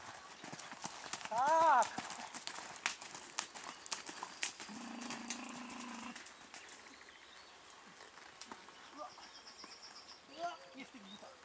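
Horse hooves clip-clopping during a riding training session, a steady rhythmic beat of hoof falls mixed with birdsong, a brief whinny-like call and occasional spoken words.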